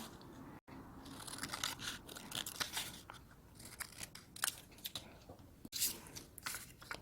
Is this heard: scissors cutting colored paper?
yes